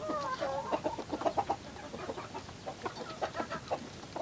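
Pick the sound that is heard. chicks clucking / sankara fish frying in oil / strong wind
chicks clucking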